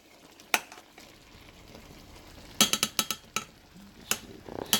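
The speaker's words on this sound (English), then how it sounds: "It's cooking, but I'm gonna sear it." Salmon searing in a pan gives a low background sizzle, broken by sharp metallic clinks and taps of a utensil against the pan that come in short bursts.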